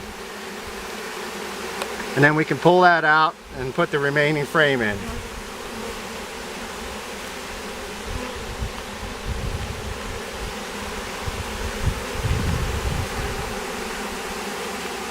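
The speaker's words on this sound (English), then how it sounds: "You notice how the bees are already gathering around the queen's box, trying to get her out." Honey bees from a newly installed package crowd around the queen cage inside the hive, making a steady droning hum throughout, while a person talks briefly near the start.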